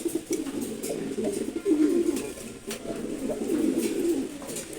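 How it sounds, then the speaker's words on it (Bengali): Racing pigeons cooing in a loft, several birds close by producing continuous low rolling coos that swell and overlap. "এখানে ওদের বেশিরভাগ কবুতরের রেস্টে রাখা হয়েছে আলাদা"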